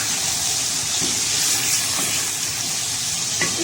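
Ginger garlic paste frying in a hot pan, a steady broad sizzling hiss that holds close and even throughout with no talk over it.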